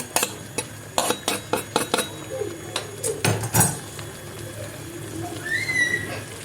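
A metal utensil clinks and scrapes against a pan while stirring chopped parsley into peppers, a series of sharp taps and stirring sounds, fairly close, with faint kitchen noise and a brief bird-like chirp near the end.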